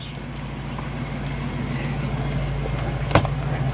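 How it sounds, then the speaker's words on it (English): A car drives along a road on new KYB gas-adjust shock absorbers, with a steady low engine and road rumble throughout and one brief sharp bump or knock near the end. "let's go for a test drive of those new shocks we got"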